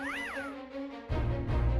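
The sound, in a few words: cats meowing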